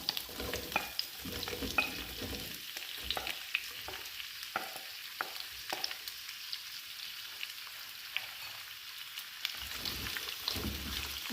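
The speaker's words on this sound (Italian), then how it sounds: "noi aggiungiamo in padella le zucchine" Zucchini frying in a pan for zucchine trifolate, a soft, steady crackling sizzle with scattered pops over several seconds, faint and with no talk.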